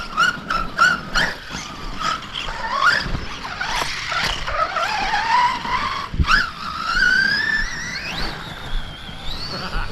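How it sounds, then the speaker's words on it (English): A remote-control stunt truck speeds across grass, its small electric motor whining and rising in pitch with repeated squealing sweeps and bursts of acceleration, loud and close throughout with no talk. "Let's take it for a quick speed run on the grass."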